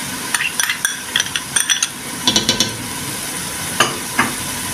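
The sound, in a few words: onion and tomato paste sizzling while sautéed in a pan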